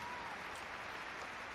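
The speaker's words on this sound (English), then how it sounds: "Plenty of applause for Stuttgart as he joins us next up" Spectators at an international show jumping competition clap in the arena as a horse enters, a brief, faint wash of distant applause.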